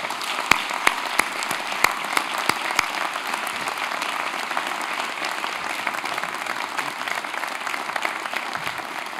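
Applause from the audience at the 2013 National Jefferson Awards in Washington, DC fills the room as Troy Vincent is welcomed, a dense steady wash of clapping with a few sharper claps standing out early, continuing unbroken throughout.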